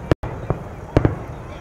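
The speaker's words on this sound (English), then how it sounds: "There's the finale, I guess, of the fireworks show." Fireworks finale at a Christmas parade: several sharp, loud bangs in an uneven burst, some doubled close together, with crowd murmur in between.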